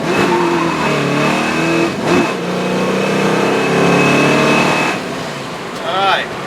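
A 1966 Ford Mustang Fastback's V8 engine roars as the car accelerates steadily through the revs, loud and close, with a brief dip at a gear change around 4,500 rpm.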